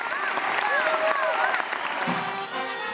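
Applause rises from a crowd as Daniel Noboa departs for his presidential inauguration at the assembly, steady clapping close by with voices talking over it.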